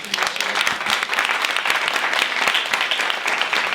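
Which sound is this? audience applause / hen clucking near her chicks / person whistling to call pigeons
audience applause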